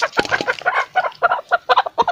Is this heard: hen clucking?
yes